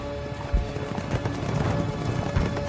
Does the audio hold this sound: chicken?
no